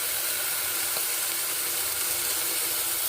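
Extra virgin olive oil sizzles in a cooking pan, a steady, even hiss that carries on unbroken at moderate loudness with no talking.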